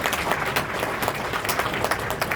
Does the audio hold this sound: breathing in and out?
no